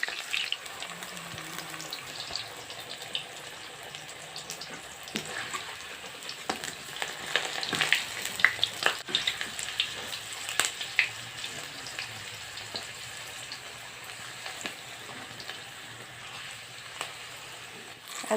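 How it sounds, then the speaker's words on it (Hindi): Capsicum frying in a pan gives a steady, soft sizzle with scattered crackles and occasional stirring clatter, moderately close and without voices. "अब कैप्सिकम पूरा फ्राई हुआ है"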